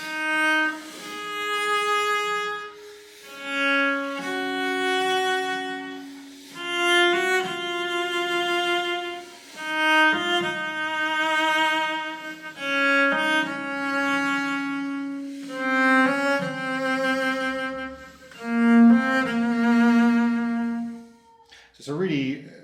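A viola da gamba plays a slow, plaintive bowed passage decorated with French-style vibrato ornaments, sustained notes swelling and fading one after another, close and clear with no talking.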